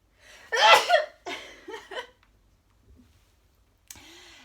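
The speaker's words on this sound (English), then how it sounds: "there's a sneeze coming" A single loud, close sneeze bursts out, followed by a few breathy vocal sounds and a short quiet pause.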